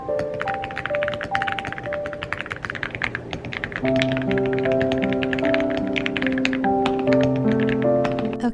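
Steady keyboard typing during an evening writing session on a manuscript, quick continuous key clicks and taps throughout, close and clear, with soft melodic background music underneath and no talking.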